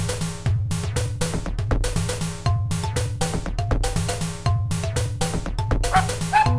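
Dog barking in a Tamil mobile adventure game, repeated bow-wow barks and yips over steady looping game music, continuous and fairly loud.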